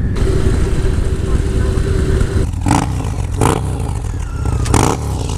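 A 2019 Indian Chieftain Bobber motorcycle engine rumbles loudly at close range, its deep, steady throb swelling in several short bursts of throttle.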